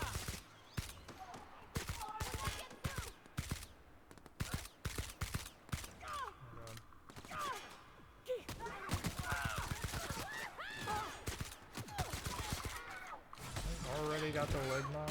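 Rapid bursts of rifle fire in the video game Outer Worlds, crackling in dense volleys through most of the stretch, with a player talking over the shooting.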